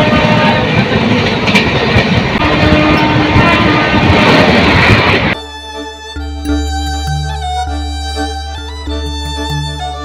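A passenger train rolls along the rails toward Tamluk with a loud, dense rumble from on board. About halfway through, the roar gives way to steadier tonal sounds over a quieter running hum.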